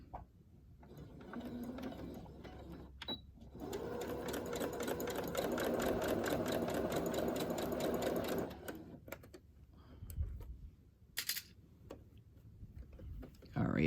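A sewing machine stitching cover fabric for winter journals, running in a rapid mechanical rattle for several seconds, then stopping and restarting in short bursts, with a person talking around it.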